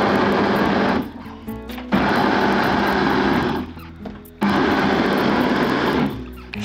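A George Foreman Mix & Go Pro blender on its smoothie function whirs loudly and close, in three long bursts separated by short pauses, with no talking.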